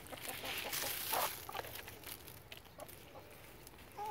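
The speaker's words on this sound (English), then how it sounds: "But here's some chickens." Backyard chickens clucking softly while pecking at spent brewery grain, with scattered close clucks and scratchy pecking over a quiet outdoor background.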